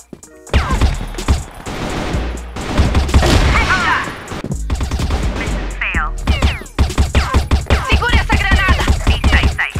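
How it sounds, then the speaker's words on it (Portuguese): In a Counter-Strike style game, a grenade blast and rapid gunfire crackle through a loud, dense stretch of repeated shots and impacts, with voices talking over the action. "Granada!"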